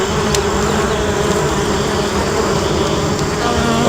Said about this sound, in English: Well, we're smoking out these wasps.